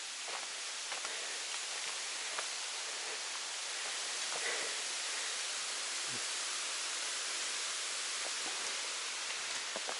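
A steady, dense rush of falling water fills the air continuously, broad and hissing like a nearby waterfall, with no voices.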